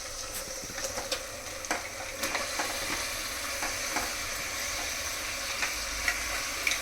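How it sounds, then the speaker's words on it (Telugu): Washed mutton pieces fry in ginger garlic paste for a goat curry, giving a dense, continuous close sizzle. Scattered scrapes and taps of a stirring spoon sound over it, with no talking. "ఈ మటన్ ముక్కలు కూడా వేసేస్తున్నాం."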